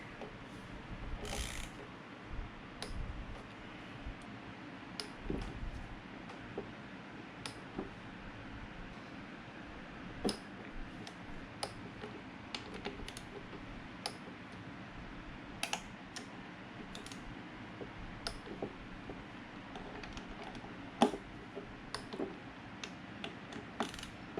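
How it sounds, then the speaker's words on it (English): A torque wrench tightening bolts on a Toyota 2GR-FKS short block from a third-generation Tacoma, with faint sparse ratcheting clicks and small metallic ticks over low room noise, close but quiet. "These over here get torqued to 8 foot-pounds as well, but they don't get Loctite."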